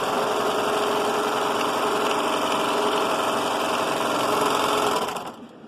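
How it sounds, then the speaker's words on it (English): A sewing machine stitches the side seams of a child's skirt, a close, steady mechanical whirring with rapid needle rhythm that runs continuously before cutting off abruptly near the end. "I actually have to move it to the sewing machine to get the gather going"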